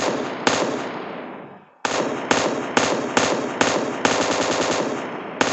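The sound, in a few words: gunfire from video game PUBG Mobile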